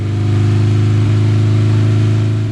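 A Porsche 904 Carrera GTS engine holds a loud, close, steady rev, its deep throbbing drone unbroken for a couple of seconds with no voices.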